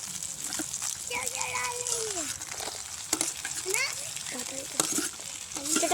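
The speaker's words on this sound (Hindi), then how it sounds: "अब इसमें जाएगा तो प्याज डाल दे। प्याज फ्राई होने दो भैया।" Onions sizzle and fry in a pan over an outdoor jungle cooking fire, a soft steady crackle heard close and faint beneath people talking.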